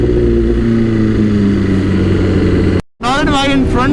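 A powerful motorcycle engine idles and revs with a steady loud drone, cut off by a brief drop to silence before a voice begins talking over the engine noise.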